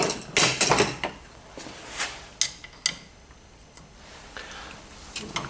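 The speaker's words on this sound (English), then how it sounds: "Let's just see if we can get a screwdriver in there." Screwdriver clicking and scraping against screws during the teardown of a lathe headstock, a series of irregular close ticks and ratcheting clicks with pauses between them.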